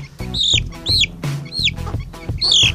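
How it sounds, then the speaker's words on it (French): A young rooster, still with some down and a fine comb, gives repeated rising clucks and chirps close by, several short calls in quick succession over a farmyard background. "Et ça c'est le coq."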